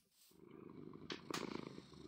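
A cat purrs steadily in a Minecraft-style video game, its soft continuous rumble rising slightly in the second half, with a couple of brief brighter bursts, heard alone without any talk.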